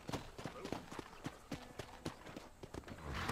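Horse hooves clip-clop steadily in a ranching video game, quick regular hoofbeats that stay close and fairly quiet, with a person talking over them.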